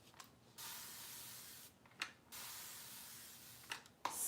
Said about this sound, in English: I'm going to have it wet just by spraying the brush a little bit.